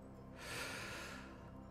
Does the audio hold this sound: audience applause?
no